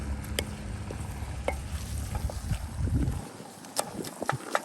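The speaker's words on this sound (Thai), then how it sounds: "Now stir fry the onion." Sliced onion stir-fries in a pan with a little added water, giving a continuous sizzle and hiss broken by sharp scraping and stirring clicks, loudest in the first few seconds, then thinning out into sparse clatter.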